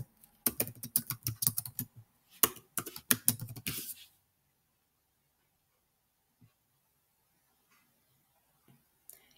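Quick typing on a Chromebook laptop keyboard, rapid close clicks in two short bursts over about four seconds, then near silence with a few faint taps.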